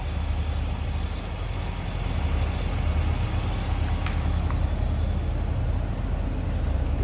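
A 2008 Chevrolet Corvette Indy Pace Car coupe with an LS3 V8 idling, giving a steady, low, even rumble at close range. A couple of faint clicks sound midway, and no one talks.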